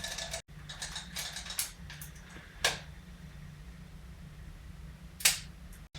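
A film camera shutter is dry fired, producing a few sharp mechanical clicks and snaps spaced seconds apart, close and crisp against a quiet room.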